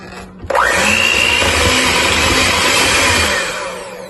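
Electric hand mixer whirring steadily on low speed through vanilla cupcake batter with milk, starting abruptly after a brief quiet moment and running loud and continuous, easing slightly toward the end.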